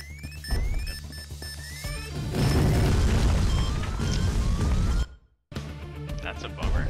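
Bombs explode in the video game Mr. Shifty, a loud rumbling blast building over an alarm-like wail and electronic music. The roar breaks into brief silence before the noise resumes, with a player talking throughout.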